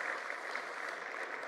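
Audience in a church on Easter Sunday clapping for the children who helped, a steady dense patter of hands at moderate level, fairly quiet and even throughout with no voices standing out.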